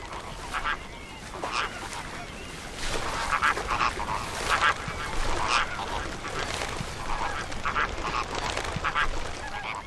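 Flock of flamingos in a brackish Cuban mangrove swamp, a dense chorus of honking, goose-like calls rising and falling over steady background noise, many birds calling at once.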